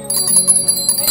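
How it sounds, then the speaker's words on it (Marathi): A hand bell rung hard during a Gauri festival offering in a village, giving rapid, bright, loud ringing strikes that carry on through the short moment. "घंटी वाजव जोरात जोरात."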